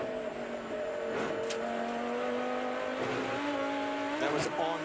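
Onboard race car at the Rolex 24 at Daytona, a loud continuous engine drone with shifting revs and gear changes through the bus stop chicane, close and unbroken, with commentary faintly underneath.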